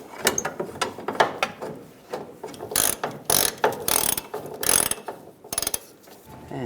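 A hand ratchet clicks in quick, uneven bursts while tightening a bolt on a fuel tank strap of a 1999–2006 Chevrolet Silverado 1500, with short pauses between strokes and a close, crisp sound.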